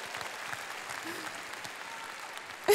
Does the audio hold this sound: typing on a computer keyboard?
no